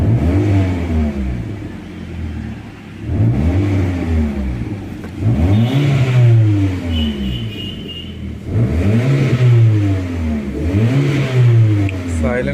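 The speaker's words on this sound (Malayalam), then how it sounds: "സൈലൻസർ പൊട്ടിക്കിടപ്പുണ്ട്. നല്ല നോയ്സ് ഉണ്ട്." Hyundai petrol car with a broken silencer, its engine revving repeatedly in loud, rough rising-and-falling surges about every three seconds, close and harsh, with a faint high whine partway through.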